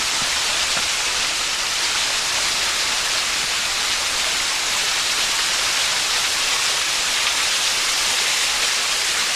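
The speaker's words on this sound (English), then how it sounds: "Yeah, so here's the waterfall." Waterfall at Frankfort Mineral Springs in Raccoon Creek State Park, Pennsylvania, pouring in a steady, loud, unbroken rush of broadband water noise that holds evenly throughout with no voices.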